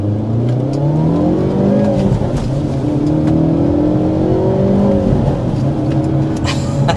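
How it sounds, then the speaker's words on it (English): Hyundai Elantra N accelerating hard, its engine note rising steadily through the gears with brief dips at the shifts, heard loud and constant from inside the car with no talk. "let's go ahead and get the oh-so-important hard acceleration."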